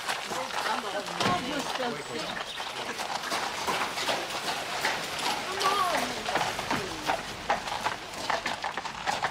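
Horses' hooves clip-clop in an irregular run of clattering beats, mixed with voices and background bustle.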